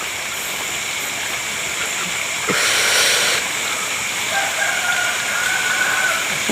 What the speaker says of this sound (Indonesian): Ternyata ayam berkokok.